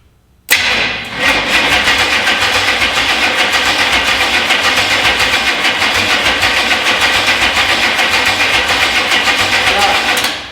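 Small-block Chevy V8 in a 1964 C10 pickup catches on its first start-up and settles into a loud, steady, rough run that keeps going right to the end, with no talking over it.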